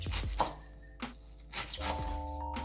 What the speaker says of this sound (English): What you're gonna do is chop it up.